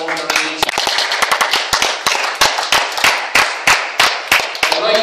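An audience at a memorial tournament applauds the winner, a dense burst of loud, fast, overlapping claps lasting about five seconds, with some voices underneath.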